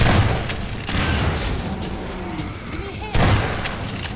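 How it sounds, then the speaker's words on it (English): Gunfire in Half-Life 2 Episode 1, with loud booming shots in bursts over a steady game background and someone talking throughout. "I'm busy shooting them"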